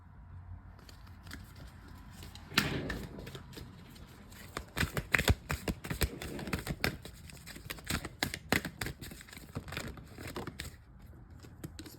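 Oracle cards being shuffled and pulled from a deck make soft papery riffles and flicks, then a denser run of crisp snapping and sliding card sounds up close, with no talking.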